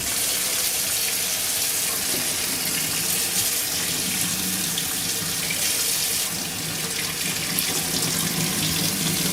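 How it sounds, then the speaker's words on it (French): Hot water pours from a tap over an ashtray in a loud, continuous rush that hisses and splashes steadily without a break. "Et du coup, là je le passe sous l'eau chaude."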